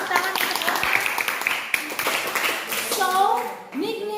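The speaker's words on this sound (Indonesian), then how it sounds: "Clap hands, tepuk tangan untuk Ona" A Grade 7 class claps hands for a classmate named Ona, a brief burst of clapping with children's voices and a teacher talking over it, fading toward the end.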